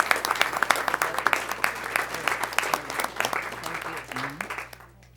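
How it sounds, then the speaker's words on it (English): An audience at a city council candidate forum in Clinton, Iowa applauds steadily for several seconds, dense clapping that tapers off at the end. "let's give these 2 candidates a round of applause"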